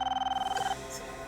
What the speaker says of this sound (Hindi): ये उन्हीं का फोन होगा पापा, उन्हीं लोगों का फोन होगा ये।